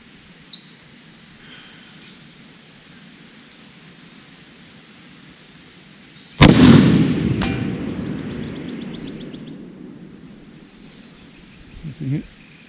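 A single sharp, loud crack from a .300 Win Mag rifle fired toward a 1000-meter target, followed by a long decaying echo rolling across open ground, with faint ambient noise before and a small clink near the end.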